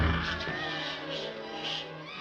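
A cat gives a drawn-out, wavering meow close by, its pitch rising and falling over about two seconds against a low background rumble, with no talk over it.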